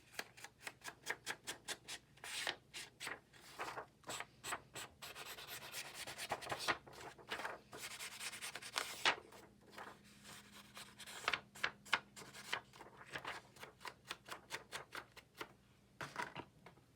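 Ink being rubbed onto a paper page for a file folder journal, quick repeated scratchy rubbing strokes in uneven bursts, close and soft throughout.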